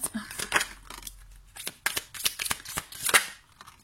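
Tarot cards shuffled and riffled by hand in a series of quick papery flicks and snaps, close and fairly clear, with a faint voice in the background at moments.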